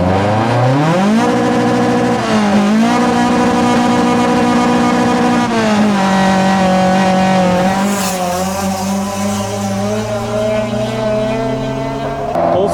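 A 200+ hp Opel Corsa B GSI swapped to a C20XE engine on individual throttle bodies revs hard and loud, pitch climbing and falling through repeated sweeps with a raspy intake howl, close up and with no talking.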